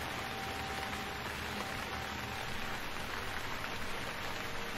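Rain falls steadily in a city, a dense even hiss of drops on surfaces with no pauses, heard alone.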